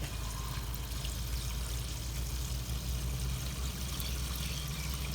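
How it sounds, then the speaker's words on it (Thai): Fuel is poured from a container into the tank of a Kubota excavator after long parking, making a steady close trickling stream over a constant low engine-like hum, with no talk. "เราเติมสักครึ่งถังก่อนครับอาจจะยังไม่เติมหมด"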